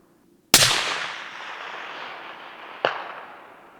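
Rifle shot fired from a backpack rest outdoors, a sharp loud crack with a long rolling echo, followed about two seconds later by a second, fainter report.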